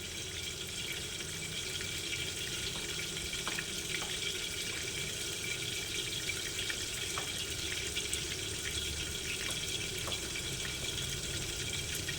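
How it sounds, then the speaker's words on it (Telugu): A steady stream of water pours from a blender jar and splashes without pause, a constant liquid rush with faint clinks underneath. "జార్లో ఉండే నీళ్లు కూడా తీసేసుకొని కొంచెం మనము ఇట్లా పోసుకుంటే అయిపోద్ది"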